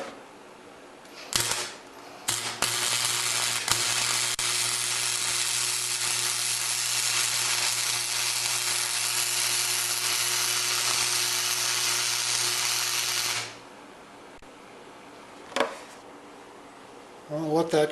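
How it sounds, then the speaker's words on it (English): Tack welding on metal parts for a Synergy Kahuna modification: a loud, steady buzzing crackle lasting about twelve seconds, flanked by short sharp bursts before and after, with no talking. "let's just see if I can get a nice little tack weld"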